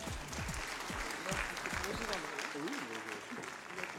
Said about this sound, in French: Donc, vous pouvez quand même l'applaudir.